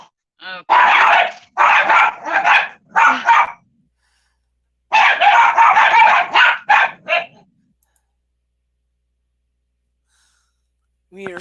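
Dogs bark in two clusters of rapid, loud barks with short pauses between them, heard close over a video call, followed by silence.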